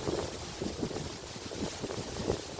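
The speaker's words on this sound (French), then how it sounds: "Le vent joue avec moi" Wind gusting outdoors with broadband rumble and buffeting against the microphone, steady and fairly loud throughout with occasional low swells, no voices present.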